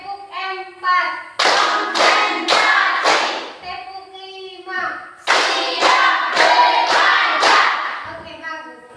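A classroom group claps hands together in a patterned clapping exercise, sharp bursts of rhythmic claps in two clusters, with children's voices chanting and singing in between.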